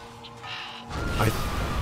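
Crows caw in the video game Folklore, a short harsh call rising out of a low ambient drone and rumble.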